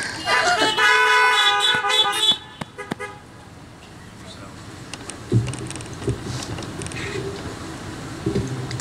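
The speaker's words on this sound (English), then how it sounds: "now we're going to have Heather MacKenzie give her a warm honk." A car horn blares in a long, loud honk for about two seconds at a church drive-in service, followed by quieter clicks, thumps and low voices.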